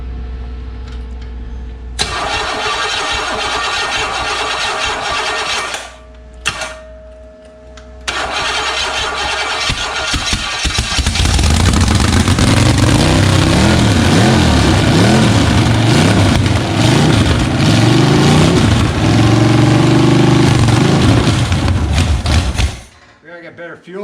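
A Chevy 350 V8 on an engine stand cranks with a few stop-start tries, then catches and settles into a loud, rough, steady idle that keeps running close by for several seconds before cutting off, with voices audible.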